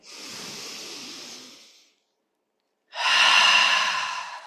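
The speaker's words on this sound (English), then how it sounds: "Take a deep breath in." Two long, loud, close deep breaths during yoga practice, a breathy inhale then an airy exhale after a short silent gap.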